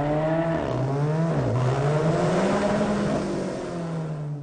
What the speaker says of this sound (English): the distinctive Alfa Romeo 4C exhaust note, produced by a specially tuned exhaust